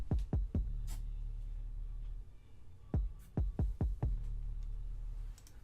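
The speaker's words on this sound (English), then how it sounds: "the 808 sounds like this" Deep booming 808 sub bass notes from a trap beat hit in a syncopated pattern, each with a punchy attack and pitch drop, over a low sustained rumble.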